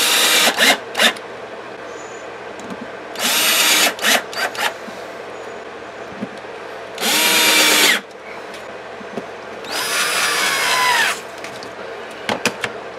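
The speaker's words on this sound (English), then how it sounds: "I've got some number 6 screws here, so I'm just going to pop those in real quick." A power drill drives number 6 screws into pine in a workshop, with several short whirring bursts, close and loud, separated by pauses with light handling clicks.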